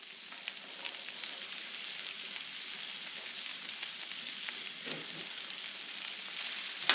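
Russet potatoes fry in butter on a Blackstone griddle for hash browns, giving a steady, dense sizzle that holds evenly throughout with a few small pops and light crackles, close and alone.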